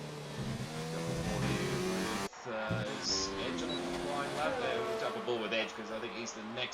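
Formula 1 car on a flying lap in an F1 video game at the Canada round, a steady loud engine drone with pitch shifting through gears, broken by a brief cut midway, with voices talking over it.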